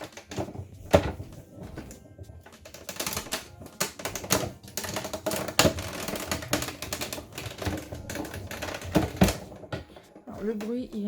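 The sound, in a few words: paper die-cutting machine running scrap paper through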